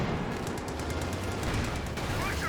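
Vickers machine gun fire in the Company of Heroes 2 strategy game, a dense, continuous rattle of rapid shots blending into steady battlefield noise throughout.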